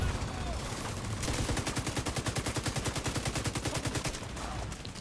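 Rapid automatic gunfire from a weapon in The Division 2, a steady fast burst of repeated shots lasting several seconds, loud and close over a continuous background rumble.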